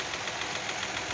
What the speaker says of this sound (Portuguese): faz esse barulho de tucho